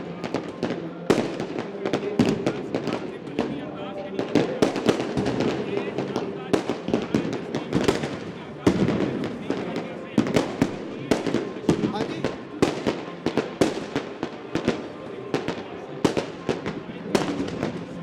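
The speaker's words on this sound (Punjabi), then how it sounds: "ਦੀਪਮਾਲਾ ਆਤਿਸ਼ਬਾਜ਼ੀ ਦਾ ਅਦਭੁਤ ਨਜ਼ਾਰਾ ਦੇਖਿਆ ਹੈ" Fireworks burst in rapid, sharp cracks and bangs one after another at a Gurpurab celebration at Sri Darbar Sahib, with a crowd murmuring and voices underneath throughout.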